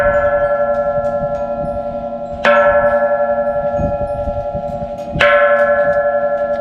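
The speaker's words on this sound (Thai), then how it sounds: "ถ้าถึงเขานอต้องมาติดระฆังนะครับ ให้มันดังนะครับ" A bell at Khao No, Nakhon Sawan, Thailand, rings with a bright metallic strike, its tone ringing on, then struck again about three seconds later; nearby, no voices.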